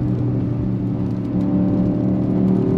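BMW XM SUV, a 653 hp plug-in hybrid weighing about 2.7 tonnes, driven hard on a small winding road. The engine gives a steady, loud, low rumbling drone that builds smoothly across the whole stretch, with no voices.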